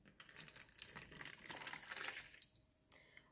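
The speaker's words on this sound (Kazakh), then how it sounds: "ең алдымен 1 стакан қайнаған суымызды құйып аламыз" Boiling water poured into a glass, a continuous splashing, gurgling fill lasting about two and a half seconds before tapering off, close and moderately loud, followed by a few small trickles and drips.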